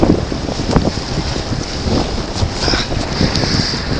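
A sailboat under sail on open water, with steady loud wind buffeting the microphone and a continuous wash of water along the hull, no talk.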